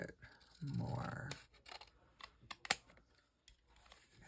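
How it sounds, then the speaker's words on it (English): Scissors snipping paper during a craft session: a few quiet, sharp clicks and short cuts spaced unevenly after a brief soft rustle, close up and faint, with no talk. "So we're going to just cut this a little bit more."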